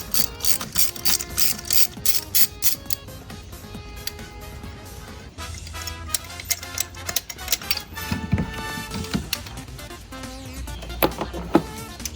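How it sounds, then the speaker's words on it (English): Socket wrench with a spark plug socket and extension, ratcheting counterclockwise to loosen the four spark plugs on a Toyota Yaris; rapid clicking bursts come close up in repeated strokes with brief pauses between them. "Take out the 4 spark plugs using a spark plug socket, a socket extension, and a socket wrench."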